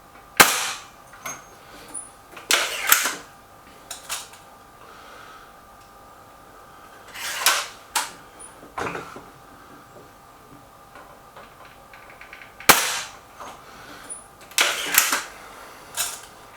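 Sharp, snappy shots from a Hatsan 900x Breaker air rifle fired at outdoor targets, several crisp cracks in irregular clusters, each followed by faint pings, with quiet gaps between.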